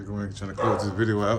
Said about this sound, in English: excuse my dog for barking in the background